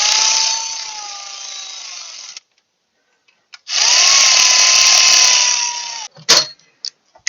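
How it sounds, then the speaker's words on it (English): A cordless ratchet spins bolts down on a 2013 Hyundai Elantra engine during cam and CVVT sprocket work, with two steady whirring runs of about two seconds each separated by a pause, followed by a few sharp metallic clicks and taps. "Now I'm just going to take my cordless ratchet and I'm going to run these down close"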